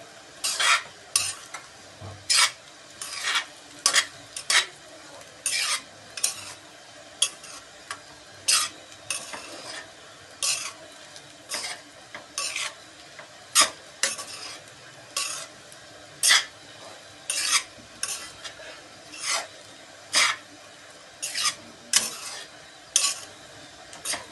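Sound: mixing sabudana khichdi in a pan

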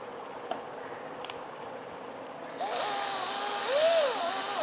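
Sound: drill spinning homemade meat mincer part held in chuck

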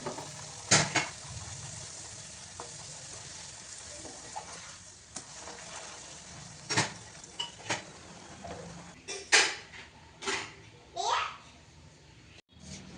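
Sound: frying and stirring food while cooking bhog offering

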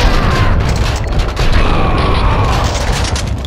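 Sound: gunfire in Max Payne 2 video game

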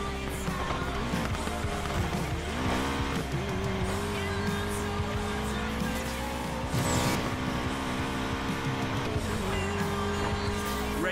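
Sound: car racing in Need for Speed Payback video game

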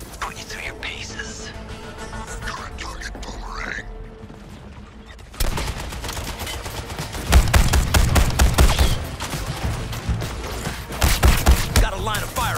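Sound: gunfire in video game Suicide Squad: Kill the Justice League

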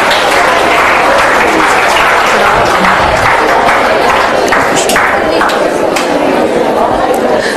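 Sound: audience applause for spell bee winner

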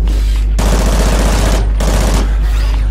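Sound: submachine gun firing in video game Call of Duty Ghosts

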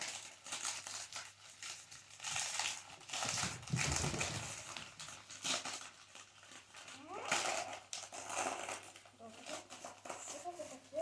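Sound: plastic gift packet crinkling during unwrapping

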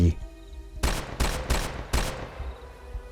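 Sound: rapid gunfire

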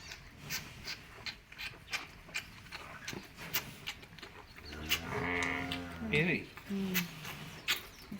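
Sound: sheep bleating

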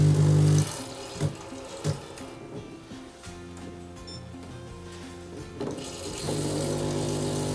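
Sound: Saeco Incanto Sirius coffee machine dispensing water

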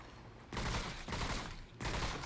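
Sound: gunfire in the video game Remnant: From The Ashes

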